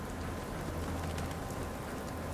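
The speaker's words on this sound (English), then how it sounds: "It's raining." Steady rain in Fallout 4 near Fenway Park, a constant hiss of drops across the whole span with a low rumbling bed, even and unbroken, with no voices.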